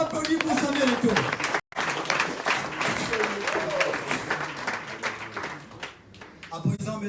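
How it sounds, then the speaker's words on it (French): An audience at an evening event applauds in honour of Samuel Eto'o, with sustained clapping and a brief dropout partway through, while voices talk and call out over it. "Est-ce qu'on peut applaudir pour Samuel Eto'o?"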